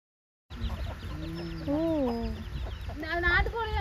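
Native Indian country chickens clucking close by, a few drawn-out, wavering calls in quick succession after a brief silence.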